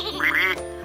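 A single nasal electronic quack from a toy, close and fairly loud, followed by brief quiet.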